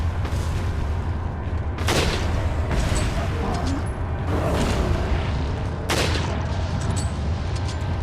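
Gunfire in Resident Evil 4 rings out as several loud, booming shots spaced a couple of seconds apart over a dense, rumbling game soundscape.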